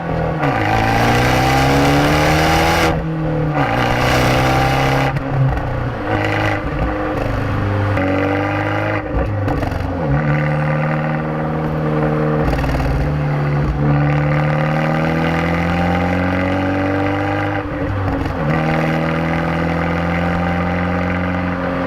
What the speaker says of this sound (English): listening to that record Monza exhaust adds to the drama and the characteristics of this car